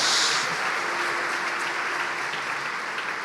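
A church congregation applauds, a dense, steady clapping from many hands that fills the whole stretch and fades slightly toward the end.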